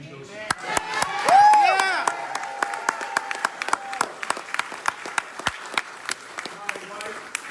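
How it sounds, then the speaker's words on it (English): Crowd applause at a concession speech honoring the Guardian Angels, with sharp individual claps over a steady clapping bed, a whistle and cheer rising early, and voices calling out amid the applause. "Special round of applause to all the Guardian Angels."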